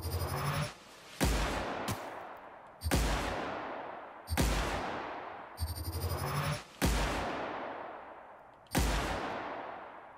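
Heavy gunshots from a gun in The Outer Worlds video game, about seven loud, booming single shots at slow, fairly regular intervals, each with a long decaying echo tail.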